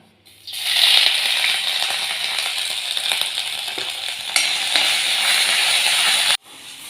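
Crushed ginger, garlic and green chilli sizzle in hot coconut oil in a pan, a loud, steady hiss that erupts as the ingredients drop in and carries on with small crackles before stopping abruptly.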